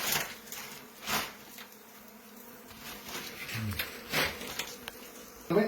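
Bees buzz around a hive built inside a wall, which holds wood and old honey. A steady, soft insect hum carries a few louder passes close by, with faint rustling and no talk.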